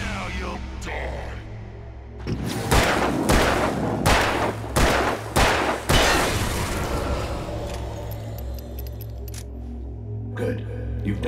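A burst of several loud, closely spaced gunshots with echoing booms in the video game Alan Wake, set amid a tense, droning background with a voice speaking nearby.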